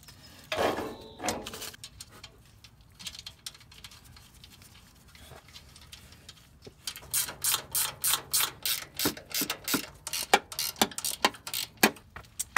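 A ratchet tightens 14 mm nuts on the suspension of a 2019 Toyota 4Runner during a Dobinsons lift install, with close, rapid clicking bursts in the second half after quieter handling noises.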